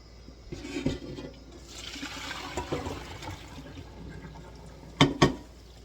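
Cooking water from spaghetti being poured off and drained, a broad splashing wash of liquid for several seconds, followed by two sharp clanks of the pot near the end.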